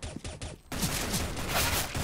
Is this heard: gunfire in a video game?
yes